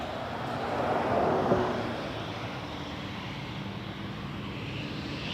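An Air Canada jet landing on runway 24 left at Toronto Pearson, a steady broadband engine roar that swells slightly in the middle and then holds at a moderate distance, with no talk.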